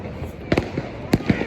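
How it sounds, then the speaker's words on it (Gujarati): Mirchi bomb firecrackers go off during a family Diwali celebration, two or three sharp close cracks spaced apart over a low background murmur of voices. "આ લોકો અત્યારે મિર્ચી બોમ્બ ફોડે છે"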